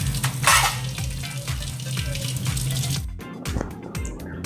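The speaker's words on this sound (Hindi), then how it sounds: "तो उसे क्लीन करने के लिए आप उसे इस तरीके से गैस की फ्लेम पर जला सकते हो" A tea strainer held over a kitchen gas flame to burn it clean gives a crackling, sizzling hiss, with light metallic clinks and scrapes close by.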